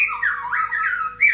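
An oriental magpie-robin, the murai batu songbird, gives a loud, continuous run of squawking, warbling calls close by, with a bright sharp note near the end and no talking.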